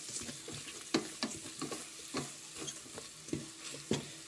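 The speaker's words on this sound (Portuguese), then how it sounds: "até que o nosso alho dá uma dourada aqui" Garlic sizzles and browns in an electric rice cooker, a close steady frying hiss broken by repeated scraping stirs of a utensil against the pot, with no talk.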